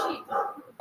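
Two short dog barks, one after another, during a live-streamed talk, followed by the abrupt start of another sound at the very end.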